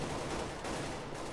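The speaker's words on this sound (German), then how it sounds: "Da ist direkt der erste Schuss, der nicht getroffen wurde. Der zweite auch nicht." Rapid gunfire in Counter-Strike on the de_nuke map during a mousesports vs. iPLAY esports match, a dense, loud, continuous burst of shots with no pause and no talking.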